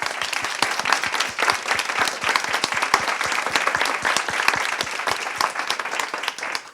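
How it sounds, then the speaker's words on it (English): A conference audience gives panelists a big round of applause: loud, dense clapping with sharp individual claps standing out, continuing steadily without talk. "please join me in giving our excellent panelists a big round of applause"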